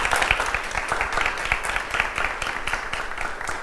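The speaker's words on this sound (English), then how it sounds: "let's have a big round of applause for Eli" An audience at a pitch contest breaks into sustained applause, dense steady clapping from many hands close and loud throughout, with faint voices mixed in.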